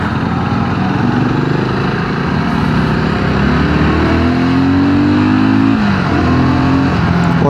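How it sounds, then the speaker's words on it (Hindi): A BSA Scrambler 650 motorcycle's exhaust drones loudly and continuously while riding, its pitch rising and falling with throttle changes and gear shifts, close-miked with no talk. "और बाइक का एग्जॉस्ट साउंड भी बहुत अच्छा है।"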